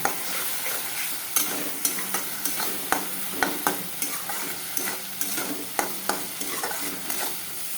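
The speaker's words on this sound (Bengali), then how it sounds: "এখন ভালো করে কষাবো" Ground spices with turmeric and salt being stirred and sautéed in a pan for a Bengali mutton curry, a steady sizzle broken by repeated sharp scrapes and clinks of the spoon against the pan, close and even, no talking.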